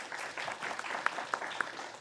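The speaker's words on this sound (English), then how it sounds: "I'll give her a round of applause." Scattered audience applause fills a county commission meeting room, a steady patter of hands with a few sharper claps standing out, moderately distant and fairly soft, with no talk over it.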